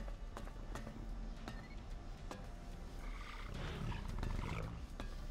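Low creature growl or snore in the video game ELEX, a faint rumbling roar that swells toward the end amid quiet game ambience, with scattered soft footsteps or thuds and no voices.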